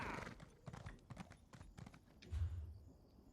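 Horse hooves clip-clop at a steady trot in The Elder Scrolls Online, the rhythmic beats close and moderately loud with a low rumble near the end.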